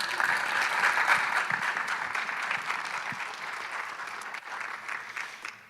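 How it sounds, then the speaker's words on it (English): Sustained audience applause fills a pitch event at the Boulder Theater, a dense wash of many hands clapping at steady loudness for several seconds before thinning slightly toward the end. "Please give a warm round of applause to Darcy Perkins"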